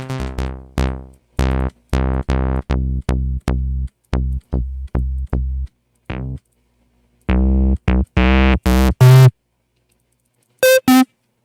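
A bright, buzzy sawtooth-wave synthesizer tone played in short repeated stabs and held notes, separated by silences, loud and close.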